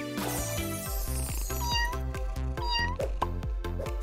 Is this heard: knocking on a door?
no